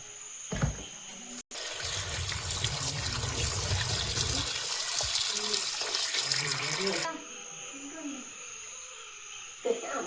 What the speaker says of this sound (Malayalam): ഒന്നും കൂടെ കഴുകിയിട്ട് വേവിക്കാൻ വേണ്ടി കുക്കറിൽ വെക്കാം ഒന്ന് കഴുകിയെടുക്കട്ടെ